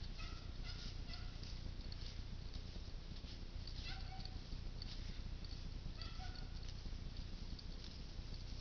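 Young chicks chirp in a coop, repeated thin high peeps scattered over a constant low rumbling background, fairly faint and with no clear talking.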